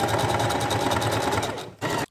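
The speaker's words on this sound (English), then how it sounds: "I'm just showing some clips of her sewing the wefts onto the wig cap" A sewing machine runs fast and steadily, stitching hair wefts onto a wig cap, with a dense mechanical whir that stops briefly near the end and then resumes for a moment.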